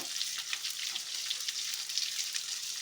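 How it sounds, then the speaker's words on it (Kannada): Onions frying in a pan with oil for shahi paneer, giving a steady close sizzle with faint crackles throughout and no talking. "ಈರುಳ್ಳಿ ಫ್ರೈ ಮಾಡ್ಕೊಳ್ಳೋಣ"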